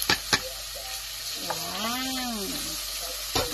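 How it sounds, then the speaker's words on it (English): Onion and garlic sauté in olive oil in a pan for risotto, a soft, even sizzle running underneath while a voice lets out a long, drawn-out exclamation in the middle. "now we're starting olive oil, onion, and garlic in the pan"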